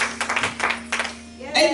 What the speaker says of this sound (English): Just give him a hand clap of praise as we wait for the track to start.